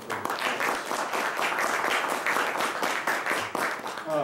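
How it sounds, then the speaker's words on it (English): An audience at a university panel discussion on electoral politics applauds a speaker, a dense, steady round of clapping that fills the room for several seconds without talk. "So I'll give a round of applause for"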